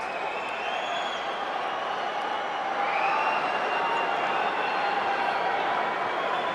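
A large hockey arena crowd at an NHL game between Boston and Toronto roars in a steady, dense wash of cheering that swells slightly louder midway and holds without a break.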